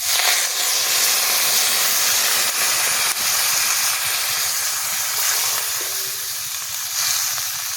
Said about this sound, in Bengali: এবার জল ঢেলে দিচ্ছি।